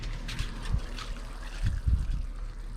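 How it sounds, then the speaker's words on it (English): Water trickles and splashes softly onto freshly sown seeds in a UK allotment bed, a gentle continuous pour with a couple of slightly louder spatters, close and quiet. "give them a bit of watering"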